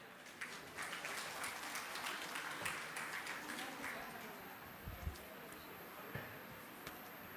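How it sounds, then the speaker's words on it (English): Audience applause for a chief guest at a university pharmacy event, a steady fairly quiet spread of clapping across the hall with scattered louder claps, plus some background murmur. "Please give a big round of applause for him."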